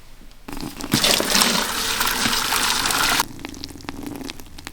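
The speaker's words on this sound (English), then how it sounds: "Add water. And I use very, very hot water." Very hot water gushes onto dry coconut coir in a steady, loud pouring rush lasting about two seconds, then tapers to quieter trickling and soaking sounds.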